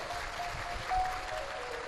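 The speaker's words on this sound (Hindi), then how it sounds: "एक बार जोरदार ताली बजाकर स्वागत करें" Large devotional gathering at a Shiv Mahapuran katha in Jaipur clapping to welcome a saint, a faint, distant, steady patter of many hands under a thin tonal hum.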